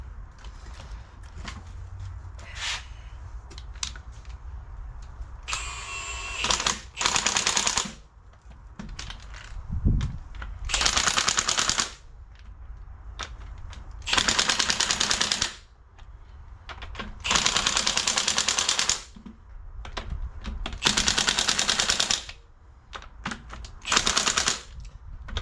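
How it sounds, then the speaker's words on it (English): An impact gun on its lowest setting tightens nuts on the hydraulics of a Ferguson T20 tractor, with repeated loud rattling bursts of one to two seconds separated by short pauses and clinking metal nearby. "So impact guns on the lowest setting"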